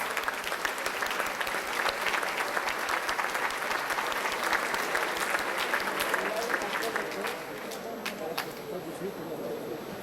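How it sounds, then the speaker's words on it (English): An audience at a business seminar applauds with dense, continuous clapping that thins slightly toward the end, a few louder individual claps standing out near the close. "So please, a round of applause for yourselves."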